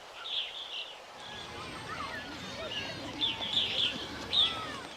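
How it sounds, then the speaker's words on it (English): Cartoon-style morning birdsong with repeated bright chirps and tweets, light and fairly faint over a soft background hum. "Birds chirped in the morning,"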